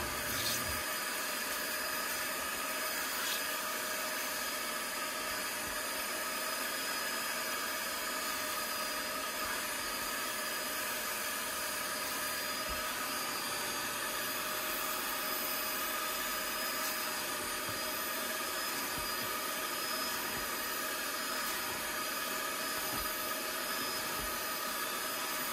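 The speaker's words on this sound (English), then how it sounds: "now we're just going to simply extract all that dirt we've been loosening up this whole time through the agitation process using IntraClean and with our steamer" A steam extractor draws loosened dirt out of cloth car seats after agitation with IntraClean cleaner, making a loud steady hissing rush that runs unbroken and close for the whole stretch.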